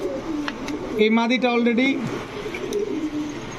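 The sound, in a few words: cooing of Kaldom pigeons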